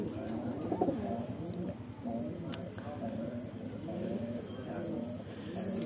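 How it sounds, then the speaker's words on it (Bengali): A pair of pigeons in a pigeon house coo steadily, low repeated throaty calls rolling on without pause, close but fairly quiet over a faint background. "এক জোড়া পায়রা কবুতর"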